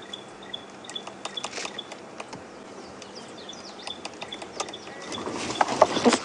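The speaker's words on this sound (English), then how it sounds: "Look at this woodpecker go." Sharp, quick tapping bursts of a golden-tailed woodpecker repeat irregularly against a quiet outdoor background in a South African game reserve, with a few faint bird calls and rising noise near the end.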